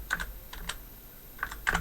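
Computer keyboard keys tapped while entering an email address at a website login, in short bursts of clicky keystrokes separated by brief pauses, close and fairly quiet, with no one speaking.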